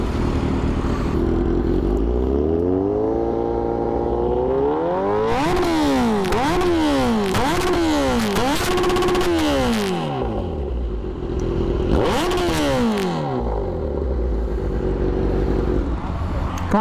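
Kawasaki Z900 motorcycle with an Austin Racing exhaust, ridden through the city, loud and close, with repeated rising and falling revs, throttle blips and gear changes over steady road noise.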